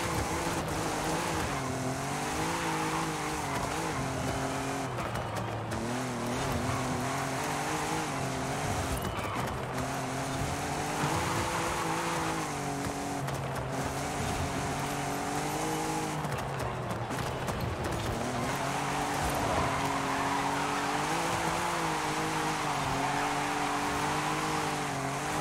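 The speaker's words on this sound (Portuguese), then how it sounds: "Qualquer coisinha ela tá derrapando, né?" Tires skid and squeal on a slow car in the Forza Horizon 5 racing game, over a steady, loud engine drone with several brief bursts of sliding noise throughout.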